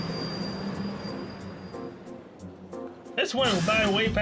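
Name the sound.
train ride in Trails of Cold Steel video game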